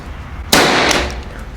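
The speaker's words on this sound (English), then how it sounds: "when you put weight on the end of the tool, it makes it go bang" A powder-actuated nail gun fires a blank to drive a concrete nail, giving a single sharp close bang that rings briefly and fades within about a second.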